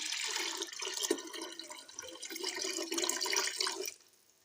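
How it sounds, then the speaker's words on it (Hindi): Meat broth (yakhni) poured over rice in a pot makes a close, steady rushing splash for about four seconds, then stops abruptly into quiet. "अब हम डालेंगे गोश्त की यखनी"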